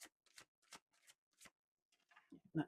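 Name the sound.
shuffling tarot cards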